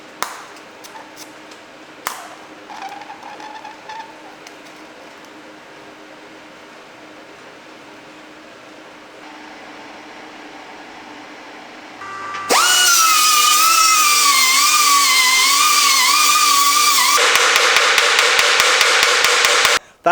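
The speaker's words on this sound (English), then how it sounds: "I just need to fire up the welder and weld that in place" A welder joins a newly made metal panel to a barn-find Porsche 356 under restoration, giving a loud, steady crackling buzz up close after some quieter workshop taps and clinks.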